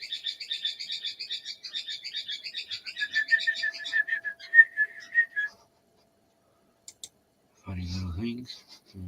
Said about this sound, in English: Well, the birds are all happy because the sun's out.